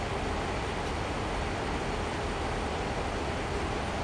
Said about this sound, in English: It's a little bit loud on the outside of the train